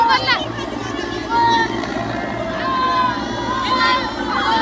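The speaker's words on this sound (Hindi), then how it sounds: "हेलीकॉप्टर से लैंडिंग होने वाली है और हेलीकॉप्टर आता हुआ" A helicopter carrying Yogi Adityanath approaches to land at Hapur, its steady rotor drone loud beneath a noisy, cheering crowd, with people talking and shouting nearby.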